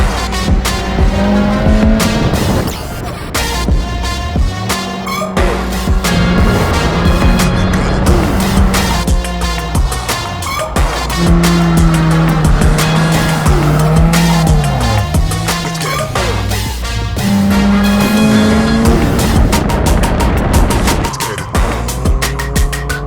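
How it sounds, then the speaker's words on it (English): A drift car slides through repeated drifts, its engine revving hard under long, loud tire squeals that rise and fall in drawn-out waves, with occasional bursts of skidding throughout. "I'm excited to get it out and learn how to drift"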